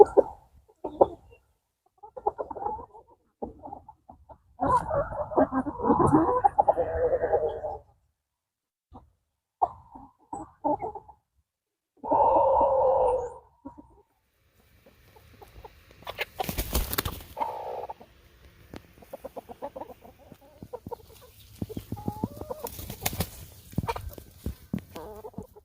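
Chickens cluck in scattered bursts, close and moderately loud, with quiet gaps between calls and no voices.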